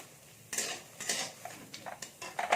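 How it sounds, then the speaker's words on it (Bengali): Onions dry-roast in a pan without oil while a spatula scrapes and knocks against the metal. The strokes come in bursts, close and fairly loud, with no speech. "পেঁয়াজগুলোকে একটু আমি ভেজে নেবো শুকনো খোলাতে আমি কিন্তু তেল দিচ্ছি না"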